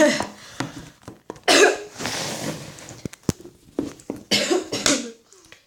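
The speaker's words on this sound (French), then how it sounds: "Vous allez me dire, il tousse, il est malade." Several harsh, close coughs come in uneven bursts, separated by short pauses and a few quiet knocks.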